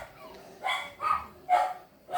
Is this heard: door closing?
no